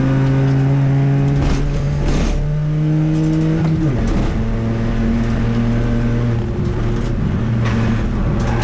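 A City Car Cup racing car engine drones loudly at Silverstone, holding a steady high pitch before dropping sharply as the driver shifts gear, then climbing again, with the noise constant and close throughout.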